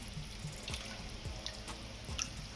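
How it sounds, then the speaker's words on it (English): Tap water runs steadily into a sink while food is rinsed for Jamaican pumpkin soup, with a continuous close splash and a few light drips and clinks. "you just want to rinse them off a little bit"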